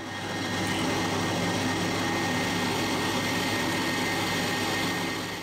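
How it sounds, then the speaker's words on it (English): A drill running at top speed bores a 3.5 mm pilot hole in cast iron for a magnetic shaper vice, giving a loud, continuous whirring grind that holds steady throughout. "Start with a pilot drill. Put my drill on to top speed for cast iron"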